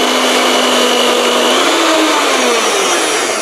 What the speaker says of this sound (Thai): เดี๋ยวเราตีเนยให้กระจายตัวก่อนเราค่อยใส่น้ำตาลลงไปนะคะ